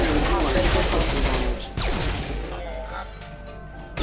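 Heavy weapon fire in the video game Mass Effect: Legendary Edition, a dense, loud, continuous barrage of shots and crashing impacts, with a brief dip and a sweeping tone partway through.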